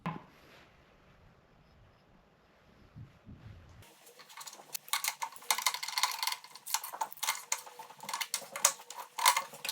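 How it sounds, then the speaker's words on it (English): Brass air chuck being threaded into the air inlet fitting of a Primeweld Cut 60 plasma cutter, giving a quiet start and then a steady run of small metallic ticks, scrapes and clicks close by, with no talking. "I'm going to thread in an air chuck"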